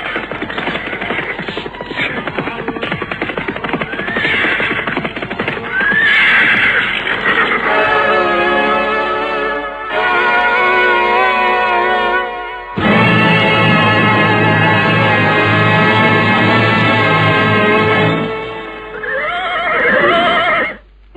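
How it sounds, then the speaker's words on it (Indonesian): A group of riders arrives on horseback in a dramatized scene. Horses whinny and neigh loudly and repeatedly in long, drawn-out calls over a hurried clatter of hooves. "melihat dari jauh datang serombongan orang-orang berkuda"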